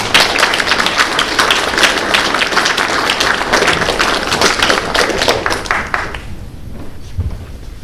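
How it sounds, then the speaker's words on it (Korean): A church congregation at a year-end worship service claps loudly as a blessing for a visiting member, dense sustained applause that holds steady for several seconds and then drops away abruptly to near silence. "우리 박수로 축복해 주시죠."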